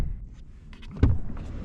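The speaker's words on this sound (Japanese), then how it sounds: "ドア閉めた音はこんな感じ。" A single heavy rear door of a 2020 Land Rover Defender 110 thuds shut about midway, a solid muffled slam preceded by faint rustling and handling noises.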